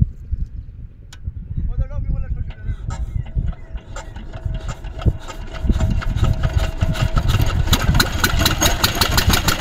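A hopper machine engine runs steadily at mid pitch, rough and continuous, with water pumping through a pipe; people talk over the drone and the engine grows a bit louder and denser toward the end.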